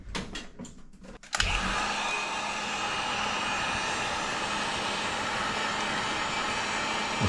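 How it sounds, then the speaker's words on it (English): A heat gun runs steadily, a loud continuous blowing roar starting abruptly after a brief quieter moment, as it heats a 3D-printed plastic body part to clear stringing. "Fix that with a heat gun."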